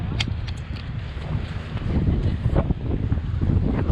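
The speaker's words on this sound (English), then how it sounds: "The wind." Strong wind buffets a dock at Garibaldi, Oregon, during dock crabbing for Dungeness crab. It is a steady, heavy low rumble of gusts on the microphone lasting the whole stretch, with faint clatter on top and no talking.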